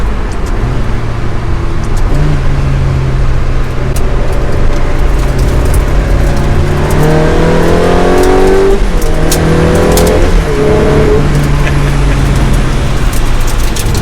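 A Ferrari 360 Challenge Stradale engine heard from inside the car through a sharp turn: loud, continuous engine drone that falls off, then rises in revs with stepped gear changes midway, and settles back to a steady hum.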